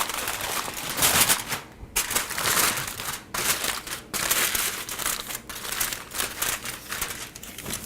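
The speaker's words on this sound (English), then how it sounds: "Let's get some tin foil over here. Okay, gonna cover it up nice and tight." Tin foil is pulled and pressed tightly over a baking dish in a kitchen, giving close, loud crinkling and crunching that runs continuously with brief pauses between handling motions.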